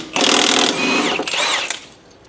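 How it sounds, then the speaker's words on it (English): An impact wrench with a big socket removes the crankshaft pulley bolt on a Honda 3.5 engine in two loud, close, rattling bursts separated by a short pause, with no talk over it. "we're gonna try it with the impact and the big socket first"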